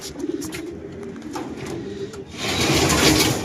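Racing pigeons coo softly and steadily, joined by a rising rush of broadband noise in the second half.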